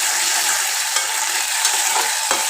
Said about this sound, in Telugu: అందుకనే నేను ఫ్రై చేస్తున్నాను